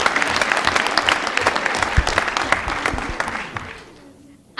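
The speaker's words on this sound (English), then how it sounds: "Let's give them a big round of applause" Applause from a crowd at a council meeting, a steady mass of clapping with some distinct claps, dying away near the end.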